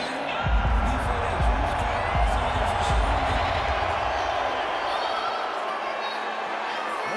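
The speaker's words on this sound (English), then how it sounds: "There's the reception from the American crowd." An American boxing crowd roars and cheers as Deontay Wilder enters the ring for Tyson Fury vs. Deontay Wilder III, a dense sustained arena din with thumping beats underneath.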